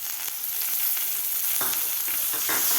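Boiled green peas sautéing in a spice masala with turmeric for a peas kadhi, a steady loud sizzle and fry with a few stirring scrapes, no voices.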